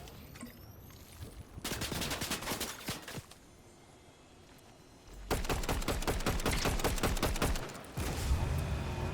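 Suppressed SMG fire in the video game Fortnite, loud rapid bursts of gunshots in two long volleys separated by a brief lull, with further shots trailing at the end.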